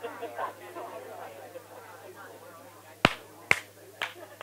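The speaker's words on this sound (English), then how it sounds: "I clap, you clap back" A few sharp claps or snaps land one after another near the end, after a stretch of indistinct chatter and room murmur at a workshop gathering.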